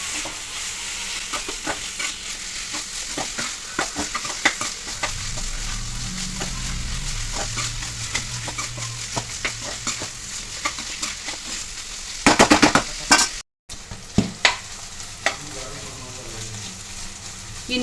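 Chicken pieces for kajjikayalu simmer in a pan as their water cooks off, giving a steady, close sizzle with stirring scrapes and a louder spluttering burst near the end.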